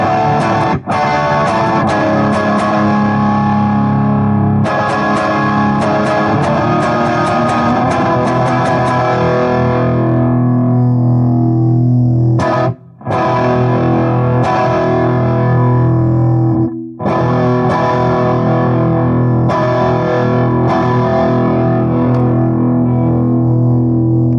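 Heavily distorted electric guitar chords through a guitar amplifier on its distorted 6534 setting ring out loud and sustained, with a couple of brief cutoffs between phrases, thick and saturated throughout.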